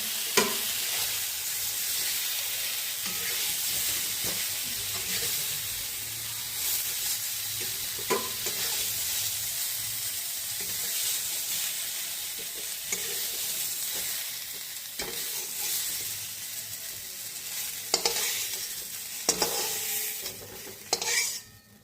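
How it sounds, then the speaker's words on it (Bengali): Cauliflower florets seasoned with turmeric and salt sizzle steadily in a pan of hot oil, with irregular scrapes and clinks of a utensil stirring and tossing them, close and without talk. "ফুলকপিগুলো হলুদ লবণ দিয়ে লাল করে ভাজা হয়ে গেছে, এখন নামিয়ে নেব।"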